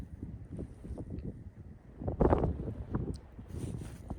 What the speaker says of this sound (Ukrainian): Якщо б ще й не вітер такий